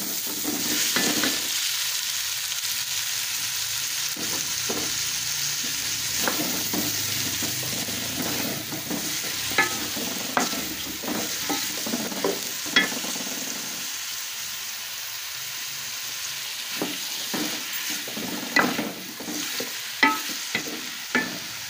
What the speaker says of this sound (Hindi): अब इस ऑयल में मैं प्याज डालूंगी